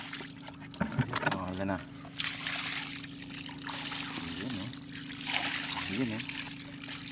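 Freshly caught fish being rinsed with water at night on a fishing outing, a trickling, splashing wash running steadily under a constant low hum, with brief talk and short voices breaking in.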